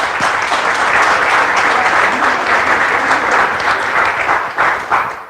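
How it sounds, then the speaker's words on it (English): A room of people at a Castle Museum of Saginaw County History event gives a round of applause, dense and loud continuous clapping that holds steady then tapers slightly at the end. "Can we give Janet and Mary Ellen another round of applause?"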